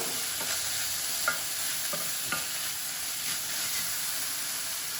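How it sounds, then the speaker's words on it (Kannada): Vegetables for lemon coriander soup stirred and mixed in a hot pan, a steady sizzling hiss broken by a few soft scraping clinks of the utensil. "ಇದಕ್ಕೆ ಸೇರಿಸ್ಬಿಟ್ಟು ಮತ್ತೊಂದು ಸಾರಿ ಚೆನ್ನಾಗಿ ಮಿಕ್ಸ್ ಮಾಡಿ"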